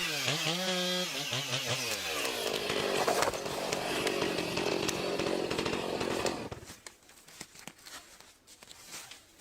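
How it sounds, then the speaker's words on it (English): A Husqvarna 560 XP chainsaw cuts into a very old tree, its loud, strained engine whine holding steady for several seconds before dropping away to quieter rustling. "logging with a hydraulic jack and a chainsaw such as the Husqvarna 560 XP"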